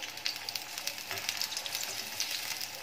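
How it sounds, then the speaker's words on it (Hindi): Garlic frying in hot oil for a homemade hair oil, a soft, steady sizzle dotted with small crackles and pops, close by and without talk. "तो अब मैं ये इसको अच्छी तरह भूनूंगी ताकि ये बिल्कुल ब्राउन हो जाए लहसुन।"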